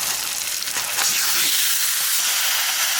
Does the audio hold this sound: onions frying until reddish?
yes